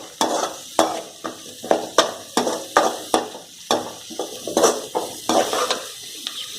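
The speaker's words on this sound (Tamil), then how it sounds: "வெங்காயத்தை போட்டு நல்லா வதக்கிக்கலாம்." Onions are stirred in a hot pan, a spatula scraping across the metal in a regular, quick rhythm of sharp strokes over a soft frying hiss, close and fairly loud.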